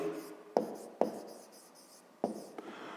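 Pen scratching as numbers are written by hand for a math exercise, with several sharp taps and short strokes over a quiet background.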